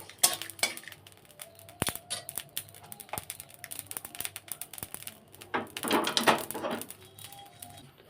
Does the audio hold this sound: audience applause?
no